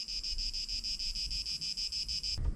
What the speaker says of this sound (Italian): Fa talmente caldo che a più di 1460 metri ci sono le cicale